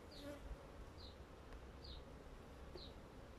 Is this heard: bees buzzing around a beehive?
yes